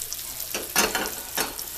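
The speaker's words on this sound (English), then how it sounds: "we are going to fry an egg" An egg frying in a pan for a BLT sandwich gives a steady close sizzle with a few sharper crackling bursts, and no one talks over it.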